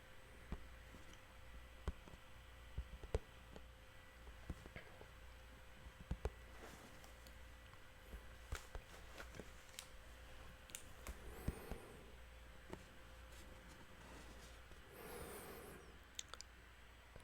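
Faint, scattered clicks of blue Cherry mechanical keyboard switches tap out irregularly over a quiet room hiss, with no talking.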